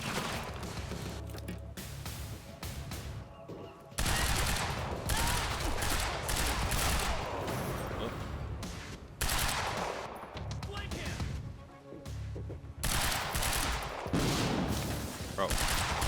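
Sustained bursts of automatic gunfire and explosions from the video game Quantum Break roar in long dense stretches broken by brief lulls, with players talking faintly underneath.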